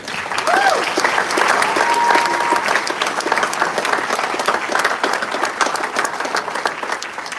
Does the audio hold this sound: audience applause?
yes